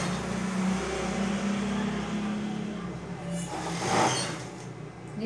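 A sewing machine stitches bias binding onto panties, its needle running in a quick, steady close-up whir that pauses briefly before a short burst of fabric handling near the end.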